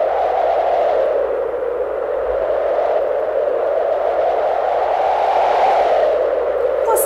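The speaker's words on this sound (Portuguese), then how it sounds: "Você está certo se você disse que esse é o som do vento." Strong gale wind blowing steadily for the whole stretch, a continuous loud whooshing roar that swells and eases slightly without pause, with no voices.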